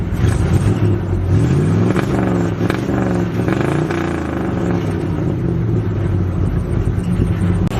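A 1972 Dodge truck engine revs hard close by, loud and rumbling, its pitch swinging up and down through several throttle blips before settling into a steady, throaty drone.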